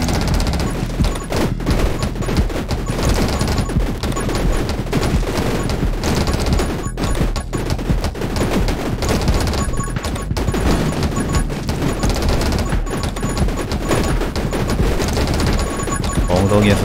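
Continuous rapid gunfire from the top-down survival shooter 10 Minutes Till Dawn, a dense steady stream of shots and impacts layered over music and game effects, with talk mixed in throughout.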